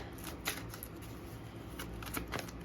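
Cards being shuffled close up, a continuous papery riffling with soft flicks and taps, no voices.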